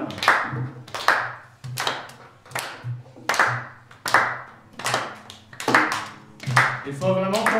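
A group of listeners at a guitar music session claps along in a steady rhythm, about a dozen even, crisp claps in a row, close and clear, with a brief vocal sound near the end.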